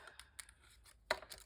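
Scissors snip off pieces of material during a craft project, giving a few soft rustles followed by one sharper, louder cut near the end, close by and quiet overall.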